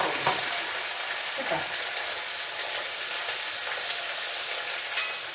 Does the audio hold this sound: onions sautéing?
yes